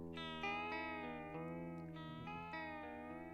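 A lo-fi synthesizer tone with vibrato steps through the notes of a chord in an even arpeggio, each note bright and harmonically rich, sustained and steady at close range with no voices.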